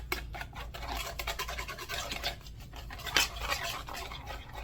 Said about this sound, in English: Now I'm going to use my whisk. And just whisk it up good.